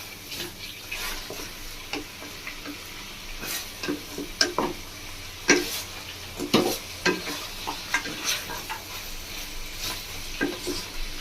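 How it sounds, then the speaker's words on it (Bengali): Mutton being stirred and sautéed in a pan with onion and tomato, a low continuous sizzle broken by repeated scraping stirs and spoon knocks against the pan. "বন্ধুরা কষতে কষতে খুব সুন্দর একটা মিষ্টি গন্ধ বেরোচ্ছে"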